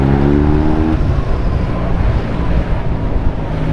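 Honda X-ADV 750 motorcycle engine running close by, a steady loud low rumble with wind buffeting the microphone throughout, no talking over it.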